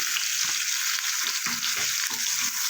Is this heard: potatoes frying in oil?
yes